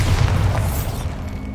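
A Bombarda spell explodes in the Hogwarts Legacy video game, in a decaying catacomb. It is a single loud, deep boom that fades out over about a second and a half.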